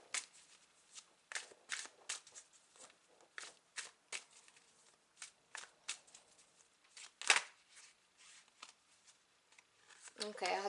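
Tarot cards being shuffled by hand: a run of quick, crisp riffles and slaps in irregular bursts, close and fairly quiet, with one sharper flurry near the middle and a busier clatter at the end.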